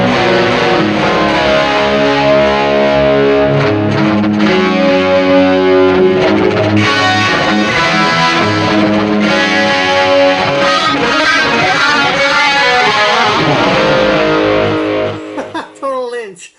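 Distorted electric guitar chords through a BOSS eBand JS-10 ring out with a spacious hall reverb, playing steadily for most of the stretch before decaying into a fading tail.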